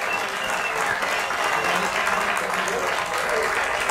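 A crowd claps steadily and fairly loudly at a podium prize-giving for a regional speed racing championship, with speech carrying over the applause for the full few seconds.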